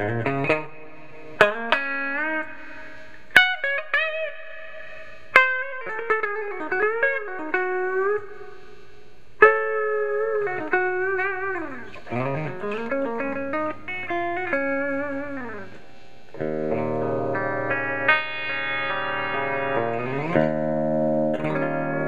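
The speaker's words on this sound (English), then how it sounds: "It's pretty good reverb on this amp." Electric guitar played through an Egnater Rebel 30 tube amp head with its reverb engaged, picked notes and chords ringing out with a reverb tail, ending on a sustained strummed chord; fairly loud and close, no talking.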